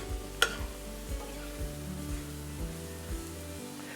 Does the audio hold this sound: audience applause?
no